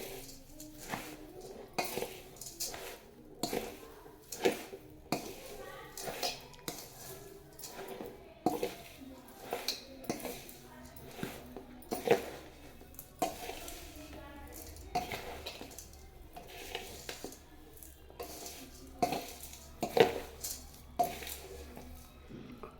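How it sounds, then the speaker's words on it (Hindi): A spoon scrapes and clinks against a pan while ghee and mishri are mixed into a cough-cold home remedy, with irregular metallic taps and stirring throughout. "देखिए अब इसे हम मिक्स कर लेंगे अच्छी तरह से।"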